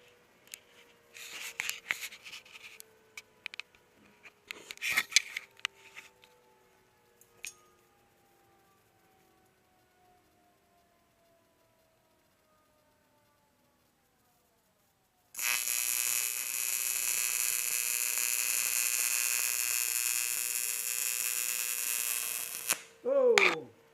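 Stick arc welding on a practice piece: a steady, loud crackling hiss starts abruptly partway through and runs several seconds before cutting off, after earlier scraping and tapping handling noises and a quiet pause.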